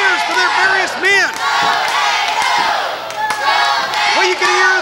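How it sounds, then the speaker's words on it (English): A wrestling crowd at Davis Arena cheers, chants and screams loudly during a match between Matt Cappotelli and Mark Magnus, with shouted calls rising and falling throughout. "you can hear the Davis Arena crowds behind. They're screaming, go, Matt, go"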